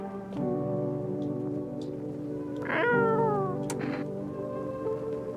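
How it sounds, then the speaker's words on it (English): A cat meowing in a video game, one drawn-out rising meow in the middle over a steady tonal background hum, with a few faint clicks. "Pet the cat."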